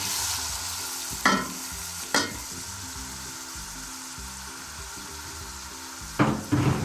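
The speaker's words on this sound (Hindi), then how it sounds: "ये हम टमाटर और प्याज एक साथ ही डाल रहे हैं।" Tomato and onion drop together into hot oil in a cooking pot for spicy chana dal, setting off a steady close sizzle broken by a few sharp scraping stirs.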